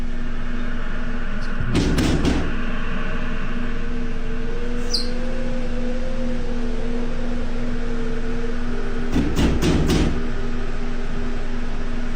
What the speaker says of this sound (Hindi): जैसे कि वो खटखटाने की आवाज़ें सुनना पहले से ही डरावना नहीं था।